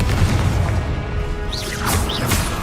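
A Confringo blasting spell exploding in Hogwarts Legacy, a loud low boom with a crashing burst followed by whooshing magical effects, with no talking.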